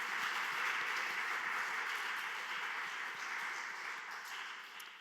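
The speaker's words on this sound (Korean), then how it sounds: "다시 한번 감사의 박수 하겠습니다." Church congregation applauding in thanks at a Wednesday teachers' dedication service, a steady, even wash of many hands clapping that holds for the whole stretch and fades slightly toward the end, with no voices over it.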